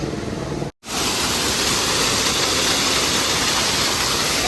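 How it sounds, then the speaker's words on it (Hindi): A huge waterfall on the Kedarnath trek roars as a loud, dense, steady rush of falling water, close and continuous, broken only by a split-second dropout near the start. "ह्यूज झरना, ह्यूज वाटरफॉल"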